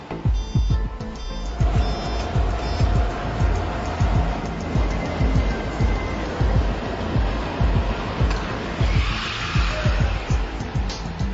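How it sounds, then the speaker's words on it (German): A car runs at full speed on a roller test bench during final inspection at an automobile factory. It makes a loud, steady roar with tire and roller whine, continuous and close for the whole stretch, with no talking. "Im Rollenprüfstand werden alle Systeme bei voller Fahrt auf Herz und Nieren geprüft."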